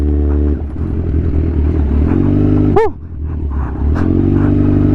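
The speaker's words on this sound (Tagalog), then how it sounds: "Naging pang off-road tong motor natin." Motorcycle riding off-road on rough trail, engine droning steadily and loud up close with revving surges, a brief dip and clatter midway, then pulling on again.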